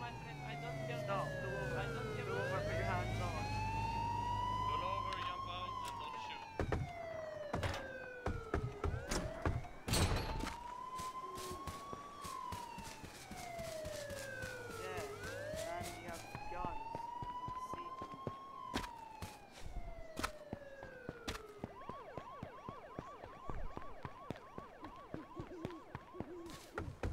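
A police car siren in the video game H1Z1: Just Survive wails in long rising and falling sweeps, with game-like thuds and clicks and occasional voices, then shifts to a faster yelping pattern.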